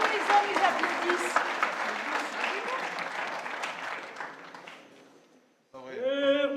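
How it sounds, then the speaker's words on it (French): An audience applauds during a performance of the operetta La Périchole in Miramas, steady clapping that fades out before a singing voice enters at the end. "même les hommes, ils applaudissent"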